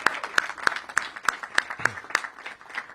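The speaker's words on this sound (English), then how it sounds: "So we should give a round of applause for that," A few scattered, separate claps from a small audience at a mayoral event, sharp individual hand claps spaced roughly every third of a second, fairly quiet against a soft room background.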